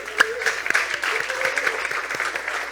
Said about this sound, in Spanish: Demos los aplausos.